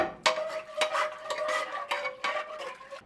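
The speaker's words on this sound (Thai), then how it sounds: "ขออนุญาตล้างกระทะแป๊บ" Metallic scraping and clanking of a frying pan being scrubbed and rinsed, with sharp knocks at irregular intervals over a steady running-water hiss.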